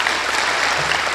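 A crowd at a kirtan gathering claps together in a brief, dense burst of applause that fills the space evenly from start to finish.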